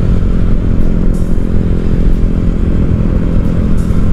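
A motorcycle engine runs loudly and steadily close by, a constant rumbling drone with a few faint clatters on top and no voices.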